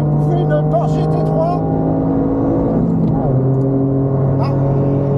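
Toyota GR Yaris racing on the Le Castellet circuit while chasing a Porsche GT3, a loud continuous in-car engine drone whose pitch climbs and shifts through gear changes, with a brief voice at the start.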